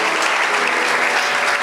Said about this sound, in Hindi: ताली बजाना अच्छे से बजा लो।